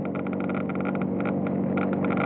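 A cold car engine idles with a fast, steady clicking ticking over a constant low hum, close and fairly loud.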